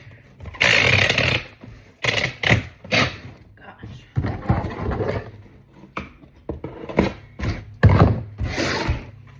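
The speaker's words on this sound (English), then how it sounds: "I am not good at using a tape gun, but I'm trying" A tape gun sealing a cardboard packing box: loud screeching rips of tape in several bursts, with a person talking between pulls.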